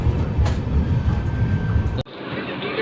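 On board the Howrah Amritsar Mail pulling out of Raebareli Junction, a loud continuous rail rumble fills the carriage, then cuts abruptly to a quieter, thinner running noise.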